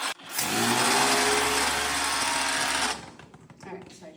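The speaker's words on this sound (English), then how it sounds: "It's clogging up again. Our pressure washer's clogging up." Pressure washer clogging up during graffiti removal in a lava tube cave, a loud harsh buzzing run of about two and a half seconds that cuts out abruptly, followed by faint scattered noise.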